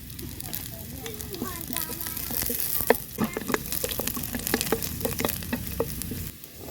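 Ginger and garlic sautéing in a pan while cooking gobi manchurian: a close, crackling sizzle with many sharp popping spits that grows busier midway, then eases near the end.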